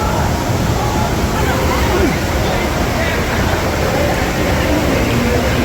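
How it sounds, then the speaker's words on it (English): A waterfall roars as a loud, continuous broadband rush of falling water heard close up, with faint voices mixed into the noise. "It's the waterfall."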